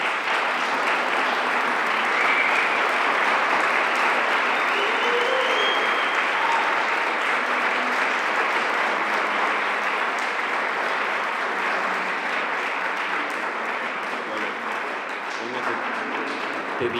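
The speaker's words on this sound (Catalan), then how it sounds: "un fort aplaudiment" An audience at a classical guitar competition applauds a finalist, sustained dense clapping that stays loud and steady throughout, with faint voices beneath.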